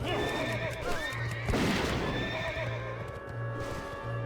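A horse in World of Warcraft Cataclysm neighs and whinnies loudly over steady clip-clop hooves and game music, with a strong burst partway through.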